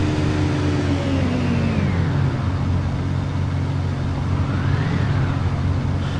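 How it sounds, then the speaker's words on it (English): A glitched truck engine sound in a video game, a loud continuous droning hum with wavering pitch that sweeps down and rises again, never stopping. "Yeah, I think that vehicle bugged me, that truck. I'm getting the sound glitch."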